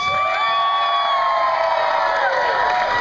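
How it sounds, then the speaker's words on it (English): Resort crowd cheering for hula dancers on stage, continuous loud whooping and shouting with high rising and falling calls, a dense wall of voices sustained without pause. "the louder you cheer, the better they dance"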